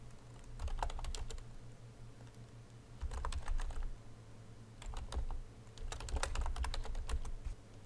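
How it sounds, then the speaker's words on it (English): Computer keyboard typing in three bursts of quick, fairly close keystrokes separated by short pauses, set over a steady low hum, with no voice. "then you can type whatever you want."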